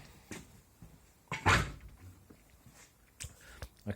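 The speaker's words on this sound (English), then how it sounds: "And I'll close my door." An indoor room door swung shut, a single dull thump in the middle of faint rustling and small knocks, moderately close, with no speech.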